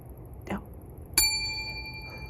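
A bell rung from inside a van parked outdoors gives one bright ring that decays slowly, following a fainter earlier sound in a quiet setting.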